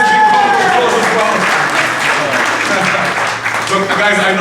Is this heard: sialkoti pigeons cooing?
no